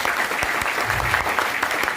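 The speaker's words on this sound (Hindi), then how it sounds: "हम चाहेंगे उनके लिए एक जोरदार ताली बजाना" Applause from an audience at a business leadership meeting, a dense burst of clapping filling the whole two seconds at steady loudness.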